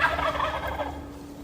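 Several wild turkeys in a flock gobble together near a house, a dense, warbling burst that is loud at first and then thins out over a steady low background hum.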